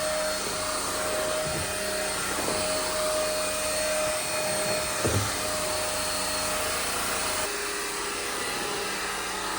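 A Maircle S5 Mate cordless stick vacuum runs continuously at close range, a steady high-pitched motor whine with slight pitch shifts as it moves across surfaces, with no speech.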